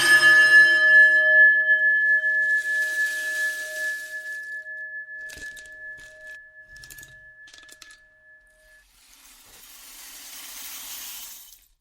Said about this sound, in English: I've used the traditional bells again in practice. 1 bell to start and 3 bells to end practice.